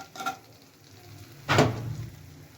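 Whole spices — cinnamon, cloves, cardamom, bay leaves — with raisins and cashews frying in a pan, a soft sizzle rising into a louder burst of crackling midway, with light stirring and no talk.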